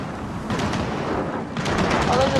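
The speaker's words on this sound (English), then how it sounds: "Hold up, there's a turret!" Turret gunfire in Gears of War 4, rapid automatic bursts that swell in two waves, loud and close, with voices shouting over the shooting.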